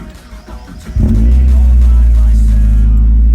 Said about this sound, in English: Alright, let's get a start up. Let's see how much this motor moves now.